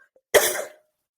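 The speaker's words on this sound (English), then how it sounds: "All of a sudden I have to cough." A single sharp cough, close and dry, bursts out once and fades within half a second in an otherwise quiet room.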